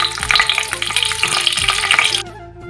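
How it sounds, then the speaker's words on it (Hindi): Stuffed capsicums fry in hot oil in a kadai with a bright, crackling sizzle and some spatula movement, loud and close, then dropping abruptly to a quieter hiss near the end. "इसमें हम करेंगे अब शिमला मिर्च को फ्राई।"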